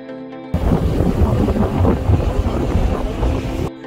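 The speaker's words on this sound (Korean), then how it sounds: "바람이 세서 풍차가 잘 돌아가는 것 같은데" Strong coastal wind by wind turbines on Jeju Island's west coast buffeting the microphone in a continuous roar with low rumbling gusts, steady for a few seconds before cutting off.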